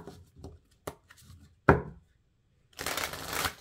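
A deck of cards is handled and shuffled indoors, with a few soft taps and a sharp snap, then a dense burst of riffling flutter near the end; close, moderately quiet, with no talking.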